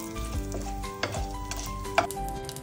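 Chana dal and broken dried red chillies frying in oil for a bean fry, a soft close sizzle with a few light knocks and scrapes of a spoon against the pan.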